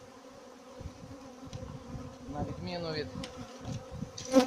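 Honey bees from a Carpathian strain colony buzz steadily around their hive up close, a continuous insect drone with brief louder passes, while someone speaks briefly in Ukrainian.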